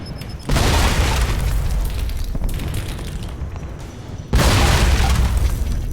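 Two loud, roaring grenade blasts in the video game Alpha Protocol, each a sudden boom that stays full and rumbling for several seconds. The second blast cuts in abruptly near the end.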